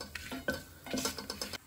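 Whole cumin, cinnamon, cloves and bay leaf in oil and butter give a quiet sizzle, punctuated by several sharp clicks and scrapes of a spoon stirring against the pan, close and faint.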